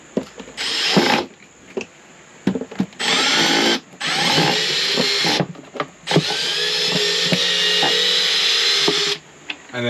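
A power driver backing out screws from a CZone remote unit in an Enerdrive installation on a Lotus Trooper: loud, close whirring bursts that start and stop repeatedly, some short, some running several seconds.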